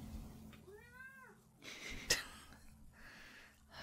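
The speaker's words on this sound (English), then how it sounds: "she'll just meow about it" A house cat lets out one clear, drawn-out meow close by, followed by soft rustling and a brief sharp sound, with quiet room noise throughout.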